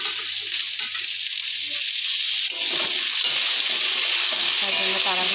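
Potatoes and onions fry in a pan, stirred continuously. A loud, close, hissing sizzle runs throughout, with scraping and stirring movements breaking through it.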